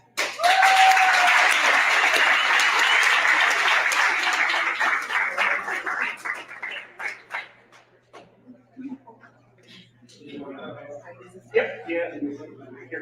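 An audience claps in a round of applause for a guest named Nancy Vatt, loud and dense at first, then thinning into scattered claps and talk.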